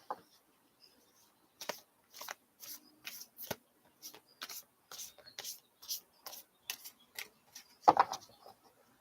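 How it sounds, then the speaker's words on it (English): Tarot cards being shuffled by hand at close range: a run of about a dozen short, crisp riffling bursts in an uneven rhythm, ending with one louder slap of the deck, all quiet and with no talking over it. "I always mix my cards in between pulling cards"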